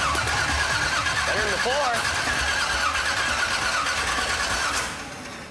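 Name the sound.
hearse's new motor cranking and firing up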